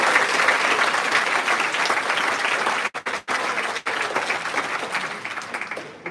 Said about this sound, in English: Let's give one another round of applause.